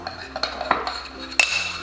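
A spoon stirring apple paste with honey in a small dish, with light clinks and scraping against the bowl in a short, close burst, one sharper knock near the end.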